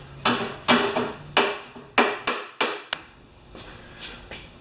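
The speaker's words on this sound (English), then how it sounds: "This isn't like Roadkings magic hammer" A hammer striking metal, probably against a bodywork dolly, in a workshop where a Briggs and Stratton mower is being repaired. About nine sharp, close blows land in an uneven rhythm, each ringing briefly, with no talk.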